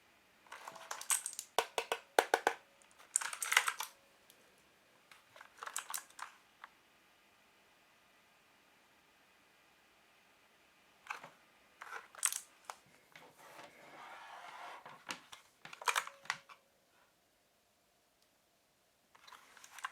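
Keys are typed on a JK-TECH E-Element Z-88 mechanical gaming keyboard with a plastic body, bursts of close, crisp clicking separated by quiet pauses.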